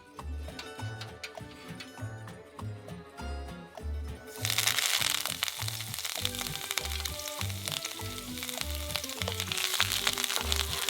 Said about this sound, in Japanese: ニンニクに弱火でじっくりと火を通し、うっすら色づき始めたら